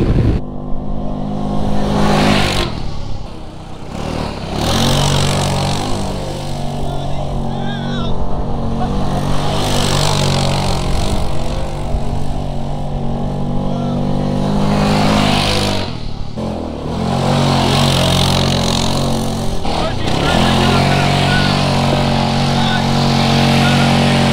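A 2021 Honda Pioneer 700 farm buggy engine drives and accelerates, loud and close, droning with rising revs and a few dips as it shifts or eases off. A voice talks over it in places.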